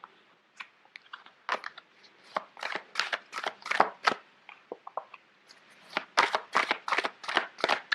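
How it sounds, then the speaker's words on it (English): Large tarot cards are shuffled in bursts of crisp, close riffling and flicking, with short pauses between the runs and no voice. "Sorry, these cards are quite big. It's hard to shuffle."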